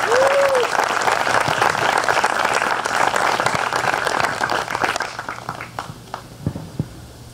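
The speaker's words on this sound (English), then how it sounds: "give yourself a round of applause" Loud crowd applause at a graduation ceremony that gradually thins out, ending in a few scattered claps.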